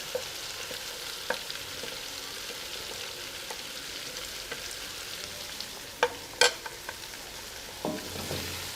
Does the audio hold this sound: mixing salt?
yes